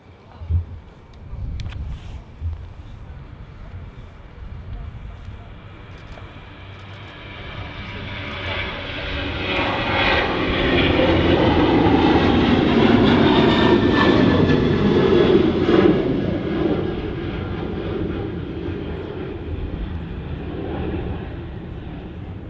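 A jet airliner climbs away after takeoff at Manchester Airport, its engine roar building to a loud, broad rumble and then holding steady. Faint voices can be heard early on.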